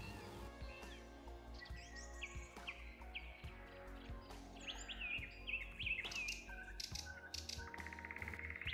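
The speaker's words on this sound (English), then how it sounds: "The beautiful birds whose songs web the fabric of the forest." Forest birds chirp and tweet in overlapping calls and whistles, some near and some farther off, over a steady bed of ambient noise with scattered tapping and rattling sounds.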